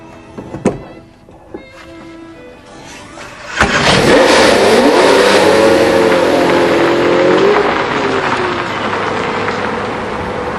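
A McLaren F1 supercar engine starts up, then revs loudly and steadily close by, its roar rising and sustained before easing slightly toward the end, with no talking.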